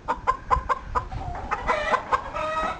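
A fighting rooster, a ten-to-eleven-month-old gamefowl stag, gives a quick run of close, clear clucks, then lower throaty notes rising into a short drawn-out call.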